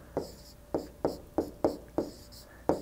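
Marker or chalk strokes scratch across a board while an algebra expression is written out, with about eight short, crisp bursts in an uneven rhythm, close and fairly quiet with no talking.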